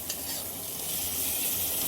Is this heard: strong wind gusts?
no